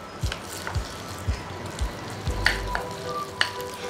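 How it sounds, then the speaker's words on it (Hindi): Spoon working chopped vegetables, green coriander and cashew-fried oil together in a bowl for a no-oven vegetable cake: steady wet squelching and scraping strokes, close and fairly loud, with no talk. "अब हम ये ऐड कर देंगे काजू वाला तेल, और इन सभी चीज़ों को हम अच्छे से मिक्स करेंगे"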